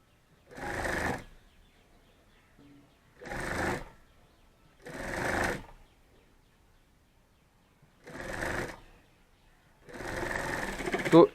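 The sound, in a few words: sewing machine stitching bag side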